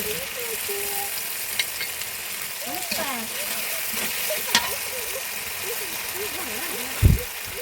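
Spices sauté in a pan, a steady fizzing sizzle that continues under intermittent speech-like voices and faint chirps, with a sharp knock near the end.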